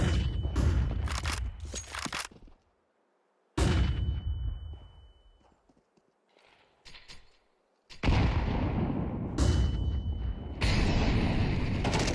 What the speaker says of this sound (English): Deploying flashbang.